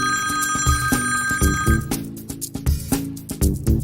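A cell phone rings close by, first as a steady electronic tone and then as rapid, bell-like trilling pulses, loud and clear with no speech over it.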